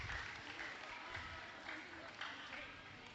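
An audience applauds a school karate demonstration at an Islamic boarding school in Banyuwangi, with steady, moderately distant clapping from a crowd that continues evenly throughout.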